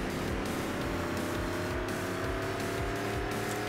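A racing car in the Fast and Furious Showdown video game drives a lap, its engine holding a steady, loud drone with a constant hum of tones throughout.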